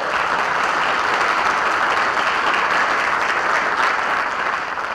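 Loud, continuous audience applause for legislators at a State of Education event in Owasso, a dense and even roar of clapping throughout.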